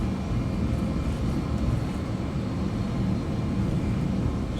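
Steady broadband engine drone of a Saab 340 turboprop taxiing on the ground in Flight Simulator 2024, a constant loud hum with no change in pitch or level and no voices.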